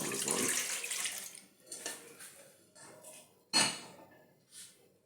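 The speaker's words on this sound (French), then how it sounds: "Je verse dans le bol." Warmed milk and water for a sandwich loaf are poured into a bowl, a soft splashing stream at first, then a few short trickles and clinks, quiet and close.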